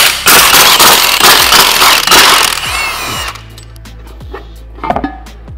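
An impact wrench rattles out bell housing bolts on a 2000hp engine build, loud rapid hammering bursts for about three seconds, then scattered metallic clinks and taps as the tool stops.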